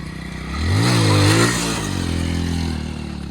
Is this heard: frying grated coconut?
no